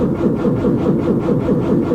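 A Renault 4CV's rear-mounted engine running on choke just after starting, a close, loud, rough chugging with a fast, uneven pulsing rhythm throughout.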